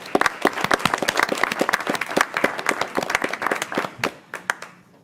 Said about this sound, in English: how about a big round of applause, Sally, wherever you are?